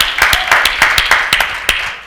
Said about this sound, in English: you give her a round of applause on that,